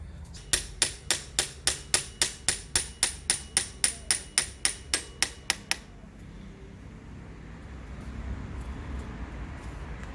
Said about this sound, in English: Now even if I have to use the hammer,